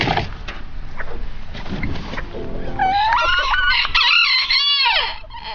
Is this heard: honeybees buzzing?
no